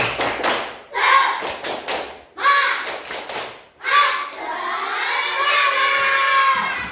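Classroom of schoolchildren performing the tepuk semangat clapping chant, bursts of rhythmic group claps alternating with shouted chanting, ending in a long cheer, loud and close.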